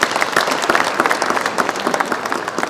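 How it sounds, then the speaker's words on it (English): Steady audience applause fills a 2022 Superbrands awards ceremony hall, dense continuous clapping from many hands at a fairly close, even level with no talking over it. "Please give them a warm hand of applause."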